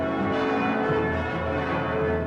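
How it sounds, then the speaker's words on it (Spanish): Church bells ring furiously and continuously at dawn, a dense sustained clangor of overlapping tones filling the whole moment with no pauses. "El día amanece con el furioso repicar de las campanas"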